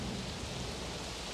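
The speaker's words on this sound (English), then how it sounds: "dark clouds filled the sky and heavy rain began to fall, drenching the entire course" Heavy rain pours down on a dirt enduro race course at the Riverland track, a steady, faint, even wash of hiss with no voices.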